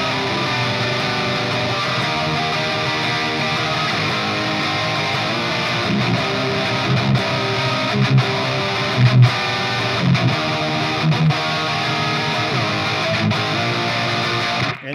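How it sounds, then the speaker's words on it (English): Distorted electric guitar chords strummed and sustained, a thick, saturated wall of sound ringing continuously with occasional new strums and chord changes, loud and alone without voices. "when you have distortion on and you strum it and it's like velvety"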